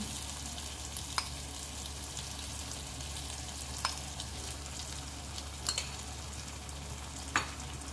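Potatoes and tomato fry in oil over a medium flame for Bengali aar fish jhal, giving a steady, even sizzle close by with a few brief clinks from stirring, and no voices.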